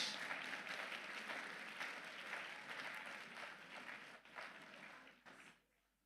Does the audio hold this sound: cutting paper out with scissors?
no